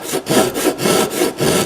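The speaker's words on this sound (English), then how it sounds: "Best way to get that slot or that angle cut is to cut it with a dovetail saw" A dovetail saw cuts an angled slot in oak, steady back-and-forth strokes with a rasping rhythm of about three pushes per second, close and loud with no talking.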